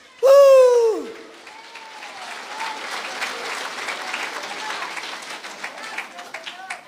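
A church congregation applauds loudly after a sermon, starting with a sudden loud tonal swoop like a voice or whistle, then steady, moderate clapping from a crowd.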